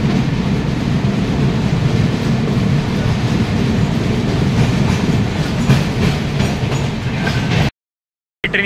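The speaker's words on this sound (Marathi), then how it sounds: "ट्रेन इथे क्रॉसिंगला थांबली आहे" An AC economy passenger train on the Konkan route toward Sawantwadi rumbles steadily from inside the carriage with a rhythmic clickety-clack of wheels, loud and continuous before cutting out briefly near the end.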